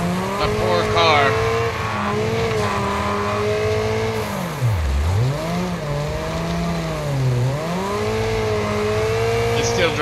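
A battered, damaged car in the racing game Wreckfest drives on, its engine droning and sweeping up and down in pitch through revs and shifts, loud and continuous with a voice talking over it.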